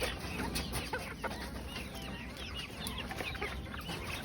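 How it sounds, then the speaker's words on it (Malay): A flock of chickens at a garden in Tanjung Sepat clucks steadily and fairly loudly, the calls overlapping in a dense chorus over a constant background hum. "Ha, ni ayam eh"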